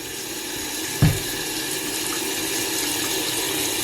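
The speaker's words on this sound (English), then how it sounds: "I'm going to scrub it, see what colour the water is" Water runs steadily from a tap while a car's filter from a 600HP turbo Falcon is washed, a loud continuous gush with a single knock near the start and no speech.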